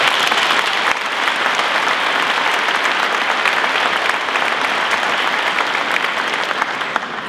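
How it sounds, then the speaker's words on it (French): Loud, sustained applause from an audience at a French civic ceremony, a dense, even wash of clapping hands that carries on without a break and with no voices over it. "Merci de l'applaudir."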